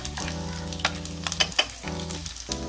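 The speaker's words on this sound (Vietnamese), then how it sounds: "Đó thì các bạn chiên làm sao khi mà con mực nó giòn các bạn ha." Dried squid frying crisp in hot oil makes a close, steady sizzle with intermittent crackles and pops. Several brief louder spatters stand out over a low steady hum, with no talking.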